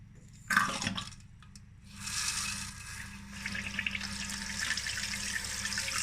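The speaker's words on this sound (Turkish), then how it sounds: "Şu an tesisatın su bağlantısını açıyorum." Water fills a toilet cistern through a newly fitted float valve after the supply valve is opened: a brief knock, then a quiet, steady hiss of inflowing water that continues throughout.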